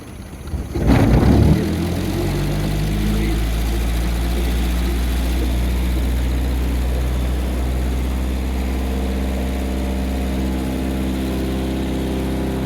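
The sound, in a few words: 1953 Lyman Islander boat engine throttled up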